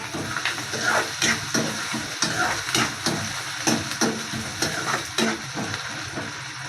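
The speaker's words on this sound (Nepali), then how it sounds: "अदरक लसुन हालेर एकछिन चलाउनु।" Ginger and garlic frying in a pan for a potato dish, stirred with a utensil: a steady sizzle with repeated scraping and clinking strokes throughout, close and fairly loud.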